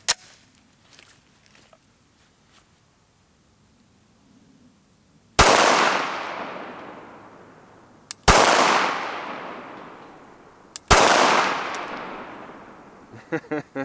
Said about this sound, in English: And of course, we're going to start with the Glock 17.